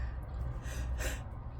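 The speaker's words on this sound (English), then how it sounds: "I am really sorry about the yawning" A person yawns once, a drawn-out breathy exhale lasting over a second, close to the microphone with no talking.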